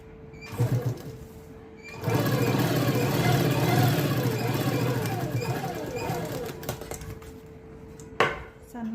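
An electric sewing machine runs a line of stitching around the neckline of a suit piece backed with buckram. A fast, even whirring chatter lasts several seconds between short handling noises and brief speech.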